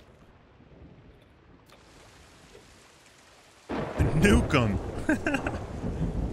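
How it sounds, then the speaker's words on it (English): Thunderstorm in the pirate video game Sea of Thieves: quiet rain at first, then a sudden loud thunder crash and heavy downpour rumbling on, with a voice speaking briefly over it. "Storm is here. Hopefully I don't get lightninged."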